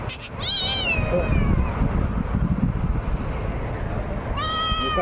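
A cat meows twice, a drawn-out cry at the start and another near the end, close and clear over a breezy outdoor background.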